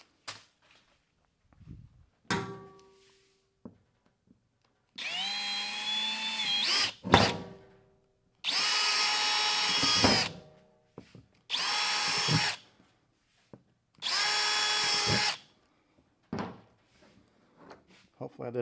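A power drill whirs in several separate bursts of a few seconds each, broken by clunks and pauses, drilling holes to mount a Pelican Vault rifle case on a Toyota 4Runner roof rack.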